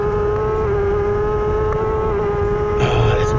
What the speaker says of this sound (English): Magic to hear it in full flight, 6 gear, everything she's got